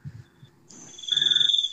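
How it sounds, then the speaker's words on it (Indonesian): Crickets chirping in a steady pulsing trill that grows louder toward the end, with a faint voice murmur at the start. "Tuh kan suara jangkrik lagi kan."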